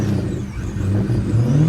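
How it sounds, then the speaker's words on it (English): A Ferrari pulls away, its engine a steady, loud low rumble that climbs slightly as the car drives off, with no voices. "Frank leaves off with a beautiful Ferrari"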